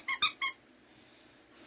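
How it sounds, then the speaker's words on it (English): A soft snowman-shaped ball dog chew toy wrapped in mesh squeaks three times in quick succession, loud and close, followed by a quiet pause and the start of another squeak. "This is a softer chew toy to chew on, and it squeaks."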